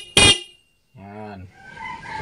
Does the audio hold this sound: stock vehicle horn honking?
yes